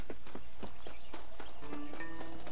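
Rhythmic horse hoofbeats clip-clop steadily in the Western video game Red Dead Redemption, a close trotting pattern joined by a faint musical tone toward the end.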